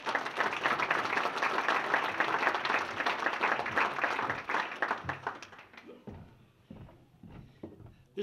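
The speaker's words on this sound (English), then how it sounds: "Big round of applause for Coach Stan Naruski." Audience applause at the 2019 Murray State hall of fame induction ceremony: loud, dense clapping from a large crowd holds steady for about five seconds, then thins out into scattered claps and faint voices.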